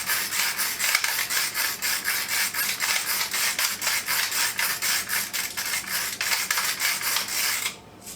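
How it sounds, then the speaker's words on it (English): A ratchet pepper grinder cracks black pepper with a rapid, regular run of close, crisp grinding clicks lasting several seconds, then stopping abruptly. "this is a ratchet pepper grinder that I got at SLAW"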